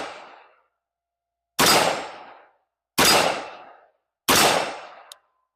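A Smith & Wesson M&P 15T police trade-in rifle fires three sharp, loud shots at even intervals of over a second. Each crack rings out and decays, and the tail of an earlier shot fades at the start.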